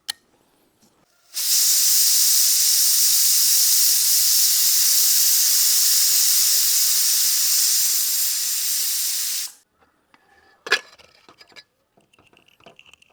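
A pressure cooker cooking potatoes releases one long, loud, steady steam hiss lasting about eight seconds, cutting off abruptly, then faint clinks and rattles afterward.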